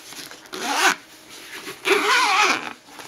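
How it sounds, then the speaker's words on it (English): A large zipper on a padded headphone case, pulled in two quick zips close up, the second longer than the first, with no voices. "You have this big zipper here that goes around it."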